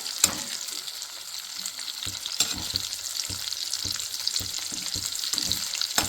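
Eggs sizzle and crackle in a hot pan while being stirred and scrambled for egg rice. Repeated scraping stir strokes sound over the steady frying, with no talking.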